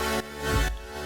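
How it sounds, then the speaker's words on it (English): Wavetable synth from the Fluid Chords plugin playing a sustained chord with rich harmonics, swelling slightly in the middle, alone with no talk. "Actually, we have a wavetable synth,"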